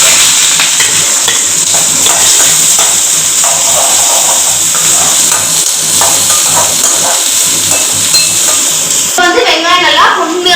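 Two chopped onions dropped into a spoonful of hot oil in a pan, hissing and sizzling loudly and continuously up close, with stirring clatter and a brief shift near the end.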